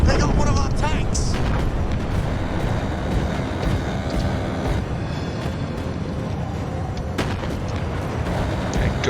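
Tank blown apart in Mecha Knights: Nightmare amid a battle, heavy booming blasts and rumbling explosions layered with continuous gunfire and combat noise, loud and dense throughout.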